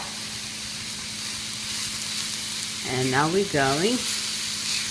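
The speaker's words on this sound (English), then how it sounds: "fry up the Polish sausage. You want the sausage to be cooked." Onions and Polish sausage frying in a pan give a steady, moderately loud sizzle and hiss that runs throughout, while a person talks over it.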